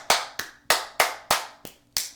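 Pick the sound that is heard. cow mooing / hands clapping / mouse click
hands clapping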